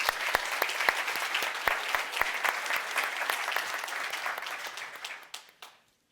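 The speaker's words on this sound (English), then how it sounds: "a round of applause is in order for those who really make the magic happen" Conference audience applauding at a software event, a steady wash of many hands clapping with sharp individual claps standing out, holding for several seconds before fading out near the end.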